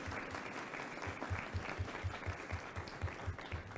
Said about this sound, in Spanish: un aplauso por favor para el profesor